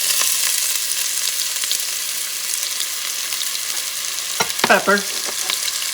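Onions fry in a pot as the base for a Puerto Rican-style bison stew, a steady hiss of sizzling throughout with a brief spoken word near the end.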